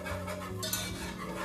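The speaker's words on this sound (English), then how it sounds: "you want to incorporate that flour in with your whisk" A whisk stirs flour into a pot of sauce for mac and cheese, giving a steady scraping, swishing churn with faint clinks against the pot, close and continuous with no talking.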